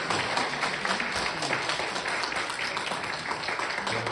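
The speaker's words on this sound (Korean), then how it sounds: "우리 다 같이 일어나시면 우리 박수로 환영해 주시겠습니다." A church congregation standing at a Christmas Sunday service claps to welcome the pastor's family, a dense, even wash of applause from many hands that carries on steadily throughout.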